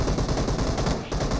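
Rapid, dense bursts of automatic gunfire from PUBG Mobile, loud and close, firing continuously with a brief dip near the end before resuming.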